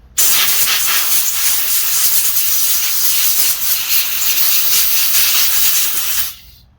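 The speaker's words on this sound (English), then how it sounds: "Give it a little starting fluid there. I use brake cleaner." Brake cleaner is sprayed as starting fluid into a Homelite engine in one loud, continuous aerosol hiss lasting about six seconds, then it stops abruptly.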